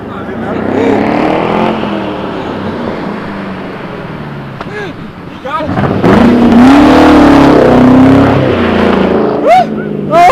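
A Mustang revs its engine hard during a rev battle with a Ford Focus in the cold outdoors, producing loud, close, sustained roaring revs that rise and fall, with voices and shouts mixed in.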